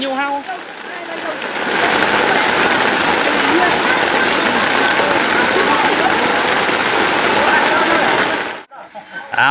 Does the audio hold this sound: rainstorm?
yes